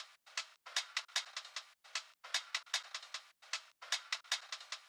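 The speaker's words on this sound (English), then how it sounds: "I have this drum break and the lows are just filtered out" A chopped drum break with the low end filtered out, playing alone as quick stuttering bright hits in uneven clusters separated by short silent gaps, fairly quiet and dry.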